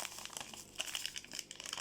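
A plastic bag crinkles and rustles continuously in kofta mixing, close and fairly faint, with irregular crackling bursts and no talking.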